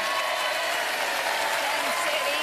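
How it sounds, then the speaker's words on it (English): Studio audience applause on a TV game show, a dense, steady wash of clapping with crowd noise that holds evenly at a moderate level throughout. "let's give Jill a big round of applause, everyone."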